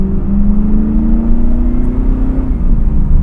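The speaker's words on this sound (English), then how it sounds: "you had that great sounding V8 and the Borla exhaust in this particular model" A 2000 Pontiac Trans Am WS6 with a V8 and Borla exhaust accelerates, its engine note rising in a steady, loud, close growl that runs throughout with no talking.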